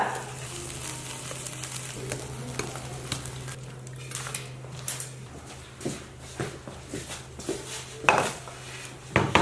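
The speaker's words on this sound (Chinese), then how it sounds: "再炒一片辣子酱，一会儿卷着饼子吃" Chili sauce being stir-fried in a pan in a home kitchen, with repeated clinks and scrapes of a spatula on metal over a low steady hum and faint sizzling, close by and without speech.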